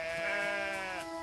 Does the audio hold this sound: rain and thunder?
no